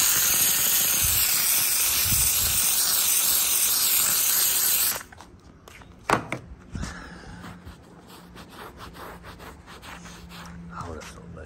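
A Central Machinery steam cleaner, used to clean a 50-year-old car seat, gives a loud, steady hiss of spraying steam. The spray cuts off abruptly and is followed by a few short bursts and clicks.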